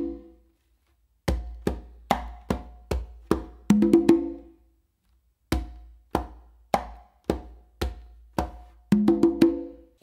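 Conga and tumba beat out a relaxed lazy-workout pattern, sharp open-tone hand strikes in a steady pulse with quick double hits, alone and close with short gaps between phrases.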